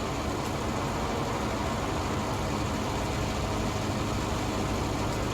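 A brand new tractor in a farming video game mows a large grass field, its engine giving off a steady, continuous drone that stays even throughout with no voices.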